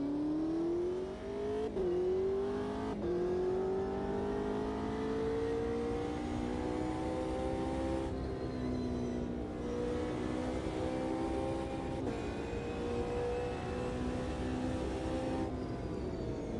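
A GT3 race car in a racing video game pulls away on the Ibarra circuit and accelerates hard. The engine note climbs repeatedly with several quick gear-change dips, loud and close throughout, with no voices.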